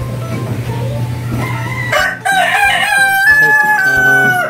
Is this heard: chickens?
yes